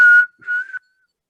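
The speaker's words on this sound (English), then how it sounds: "You hear some whistles from" Two whistle blasts from outside at a distance: a sharp, steady tone that breaks off, then a second, slightly wavering whistle, with no talking.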